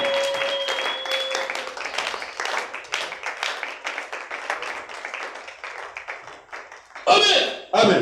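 A church congregation claps and applauds steadily at close range, a dense rhythmic patter of many hands with voices shouting over it, swelling into a louder cheer near the end.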